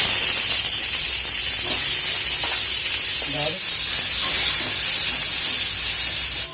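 Loud, continuous sizzling of vegetables frying in hot oil, a dense steady hiss with occasional stirring clicks; no voices.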